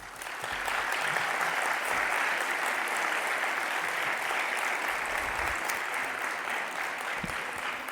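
Audience applause at a talk on psychophonies, a dense, steady wash of clapping from a full crowd lasting several seconds, loud and sustained without speech.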